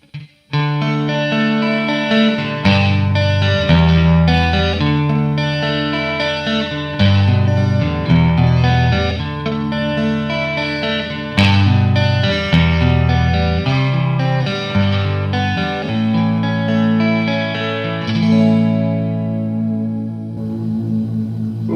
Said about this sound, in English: And then here is a room reverb added in.